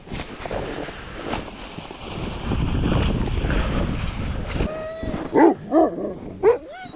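Sled dogs at an Arctic camp in Norway await breakfast amid gusty wind noise, then break into several sharp, close barks and excited yelps toward the end.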